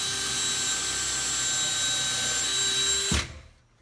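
Power drill steadily whining as it drives a pan head screw into a kitchen base cabinet during installation, one continuous loud run of about three seconds that stops abruptly.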